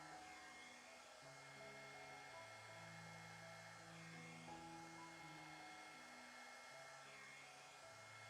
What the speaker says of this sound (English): And the flower blow dryer on low.